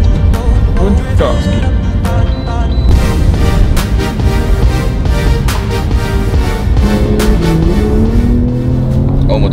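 A motorcycle engine rides close behind a Porsche 911 on Black Forest roads in Germany, its loud, steady roar mixing with the car's own engine drone and occasional revving, while people inside talk excitedly over the noise.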